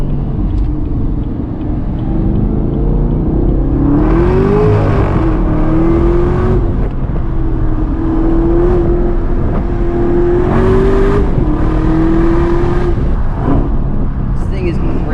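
A 2019 Camaro ZL1 1LE V8 roars loudly from inside the cabin with the windows down, its engine note climbing through repeated gear pulls and dropping at each shift, heard continuously and up close.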